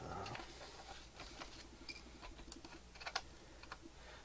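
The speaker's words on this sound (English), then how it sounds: "So you just have to kind of pry it open on the side, and there you go. The keyboard will lift up." Faint plastic clicks and small snaps as the keyboard of an HP 6360b laptop is pried up from its case, a quick scattered series of close, light ticks.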